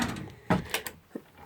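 A fridge drawer in a travel trailer slides open, giving a brief scraping clunk followed by a couple of softer knocks and clicks, close by and with no speech.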